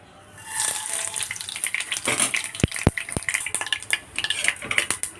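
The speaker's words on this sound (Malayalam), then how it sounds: "ഇനി താളിക്കാനായിട്ട് വെളിച്ചെണ്ണ ഒഴിച്ചു കൊടുക്കാം ഇതിലേക്ക് കടുക് ഇട്ട് കൊടുക്കാം" Mustard seeds spit and crackle in hot coconut oil in a pan for a Kerala carrot and curd curry, a busy sizzle with a few sharp pops close by and no talk.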